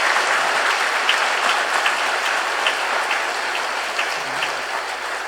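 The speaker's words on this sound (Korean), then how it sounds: "아주 특별히 우리 박수를 한번 감사 표시합시다." A church congregation applauds together during a Sunday worship service, steady dense clapping filling the room from start to finish at an even, sustained level.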